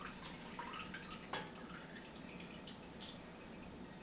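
Homebrewed chocolate maple porter wort drips and trickles steadily during transfer, a continuous close, fairly faint liquid patter with a few brighter splashes and no voices.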